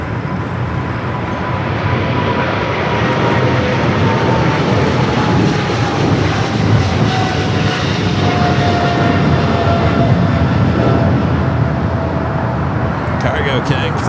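A cargo jet airliner at LAX, flight 222 bound for Shanghai, sends out a sustained, loud engine roar with a slowly falling whine running through it, steady from start to finish, with voices faintly audible.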